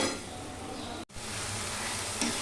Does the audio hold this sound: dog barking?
no